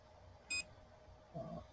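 A Creality CR-6 SE 3D printer running community firmware gives a short electronic beep, faint and close against quiet room noise, followed by a soft low click.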